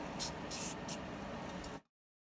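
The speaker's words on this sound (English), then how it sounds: "Spray a little PB in it." Short bursts of PB penetrating oil sprayed from an aerosol can into a Polaris Razor brake master cylinder: three or four quick hissing spurts close to the mic, then an abrupt silence.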